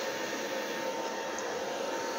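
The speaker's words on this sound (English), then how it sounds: "first I use it on a low speed and then I switch over to a high speed setting." An 1800-watt blow dryer running on high speed with cool air, used to spread puddles of paint across an abstract painting, gives off a steady, close, unbroken whooshing roar.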